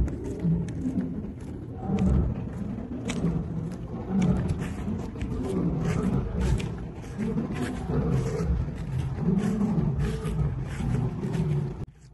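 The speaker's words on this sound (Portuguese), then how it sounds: "Vocês estão ouvindo os leões?" Lions at a US safari park and campground give long, deep, rumbling roars. They carry on steadily from a moderate distance for several seconds, mixed with faint clicks and background noise.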